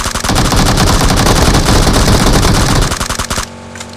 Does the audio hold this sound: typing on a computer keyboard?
no